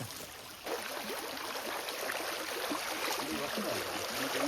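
A rain-swollen stream rushing hard, a steady, dense watery roar close by with faint gurgles, rising suddenly after a brief quieter moment.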